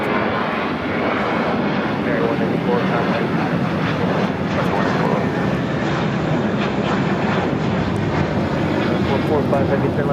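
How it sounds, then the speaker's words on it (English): An American Airlines Airbus A321 takes off from LAX bound for JFK, its jet engines producing a sustained, loud roar that stays strong and steady across the clip. "This is American Airlines 184 taking off to JFK on the A321"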